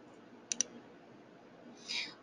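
A mouse gives two quick sharp clicks on a button in Adobe Illustrator, close and distinct against a quiet background, followed by a brief soft hiss.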